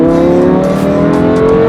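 Lamborghini Huracán supercar engine revving loudly close by, a sustained harsh mechanical roar holding steady for a couple of seconds with no talk.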